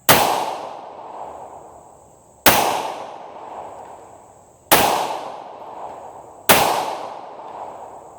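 Four .45 JHP pistol shots ring out at an outdoor range, each a sharp, loud crack followed by the sustained metallic ring of a struck steel gong, spaced roughly two seconds apart.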